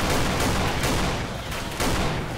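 Shotgun fire in the Left 4 Dead video game, a dense barrage of loud blasts and chaotic combat noise running continuously and up close.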